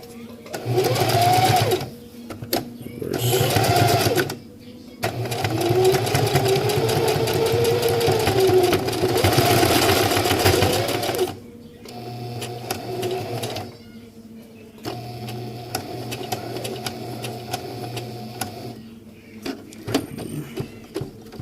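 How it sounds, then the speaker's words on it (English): A sewing machine stitching a MOLLE webbing accessory pouch, starting with a hand-cranked stitch and then running in loud, rapid mechanical bursts separated by pauses, close up, with a person talking at times. "we'll go ahead and hand crank to get that first stitch started"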